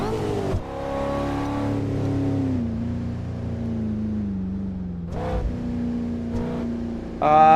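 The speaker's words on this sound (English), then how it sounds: "We're driving a Cadillac CT5V" Cadillac CT5-V engine in the Assetto Corsa racing game on LA canyon roads, a steady droning engine tone that rises and dips with throttle, punctuated by brief gear-shift breaks and a sharp rev near the end.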